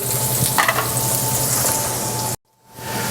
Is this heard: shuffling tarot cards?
no